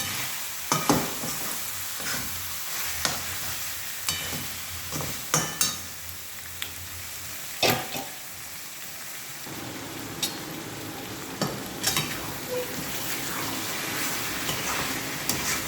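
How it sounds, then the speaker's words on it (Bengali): Chicken frying in a pan for curry, a steady close sizzle broken by repeated scraping and clattering strokes of a spatula as it is stirred. "চিকেনটা আমি ভালো করে কষিয়ে নিচ্ছি, একদম লাল লাল হয়ে যাবে যখন কষানোটা"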